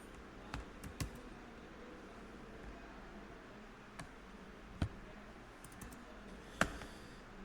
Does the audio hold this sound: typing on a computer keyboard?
yes